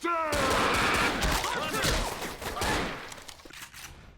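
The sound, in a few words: gunfire from shooting in the video game Left 4 Dead 2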